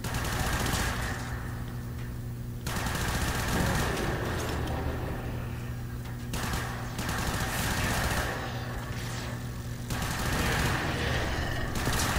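Sustained automatic fire from a Soma assault rifle in the Warframe video game on PlayStation 4, a dense rapid rattle that runs in long bursts with brief pauses between them, loud and close.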